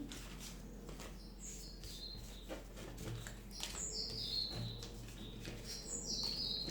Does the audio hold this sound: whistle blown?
no